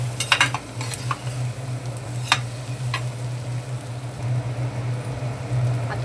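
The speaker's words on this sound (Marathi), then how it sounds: "ते बटाट्याच्या स्लाइस टाकून घेऊया आणि व्यवस्थित ढवळून घ्यायचे" Boiled potato slices are stirred in a pan with onion and turmeric. A few scraping, clinking spoon strokes come early, then a quieter stretch over a low, steady hum from the stove, with no voices.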